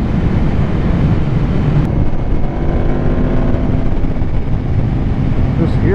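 A 2018 Aprilia RSV4RR sport motorcycle cruising on rural back roads in southeast Georgia, its engine a loud, steady drone mixed with heavy rushing wind noise on the microphone.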